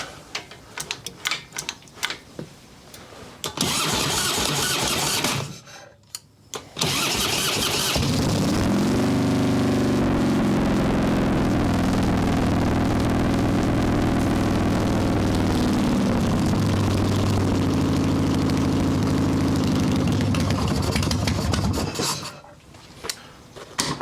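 A 1995 Harley-Davidson Evo Softail motorcycle starting up: a few cranking clatters and a brief cough, then the engine catches and runs loudly and steadily up close for about fifteen seconds, rumbling and revving slightly before shutting off.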